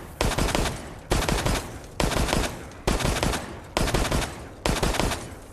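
Matilda handgun firing in Resident Evil Resistance, six loud bursts of rapid gunfire at a steady rhythm, each about a second long with brief gaps, close and alone with no talk.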